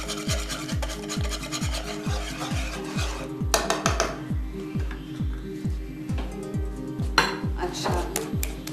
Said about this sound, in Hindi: हल्की आंच पे हम इसको मिक्स करते रहेंगे